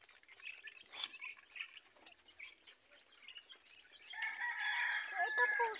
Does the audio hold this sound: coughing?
no